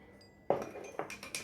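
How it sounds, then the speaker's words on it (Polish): A metal spoon tips salt into a glass of warm water, giving three light clinks against the glass at even intervals, close and quiet with no talking. "Wsypuję około dwóch łyżeczek soli do szklanki"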